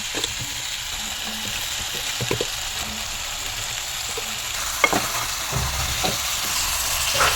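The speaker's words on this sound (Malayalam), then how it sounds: "നമ്മൾ ചിക്കൻ തട്ടാറായിട്ടോ നമ്മൾ മാരിനേറ്റ് ചെയ്ത് വെച്ച ചിക്കനാണേ" Marinated chicken fries in a pan with a steady, moderate sizzle, punctuated by occasional soft scrapes and taps of stirring.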